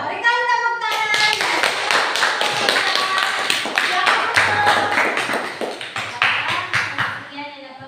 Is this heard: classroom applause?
yes